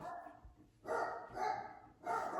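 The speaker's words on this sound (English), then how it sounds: "My dog's barking." A dog barks three times at a steady pace, each bark a short burst heard faintly and at a distance over a quiet background.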